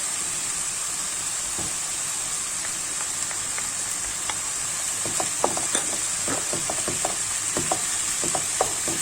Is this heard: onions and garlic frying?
yes